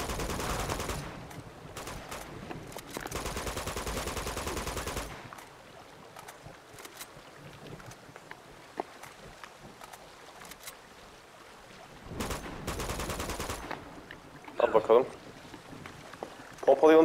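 Shotgun blasts in Uncharted 2 Among Thieves Remastered on PS5, loud bursts of gunfire in several stretches with a couple of sharp shots near the end, under someone talking.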